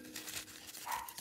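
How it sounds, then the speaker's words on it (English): A dog whimpers faintly in a quiet room, a couple of soft high whines over a short moment. "Excuse my dog."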